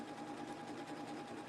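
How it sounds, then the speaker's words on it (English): Sewing machine stitching a Christmas spool garland: a fast, even mechanical whir with a rapid needle rhythm, steady and fairly faint, running alone without any talking. "I don't give a chance to my sewing machine to make a loop or whatever"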